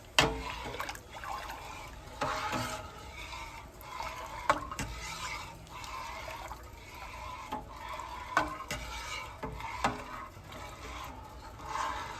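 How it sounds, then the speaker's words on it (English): Watermelon pepper jelly with lemon juice is stirred in a pot, giving soft wet sloshing and scraping strokes at a loose, irregular rhythm, close and fairly quiet with no talking. "I just stir it often so it won't stick."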